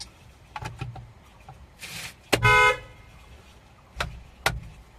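A pickup truck horn honks in short bursts, including one longer blast, with a few sharp knocks and thumps between honks, fairly close and without speech.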